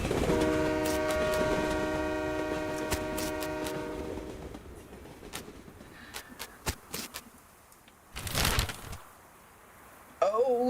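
A game train from West of Loathing rumbles along with a steady, layered horn-like tone that holds for several seconds, then gives way to scattered clanks and a short hiss burst before a brief wavering tone at the end.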